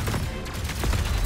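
Rapid bursts of blaster gunfire from a spaceship in the shooter game CYGNI: All Guns Blazing, a dense, continuous rattling volley layered over a heavy rumbling background.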